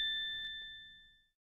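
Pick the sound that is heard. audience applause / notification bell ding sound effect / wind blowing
notification bell ding sound effect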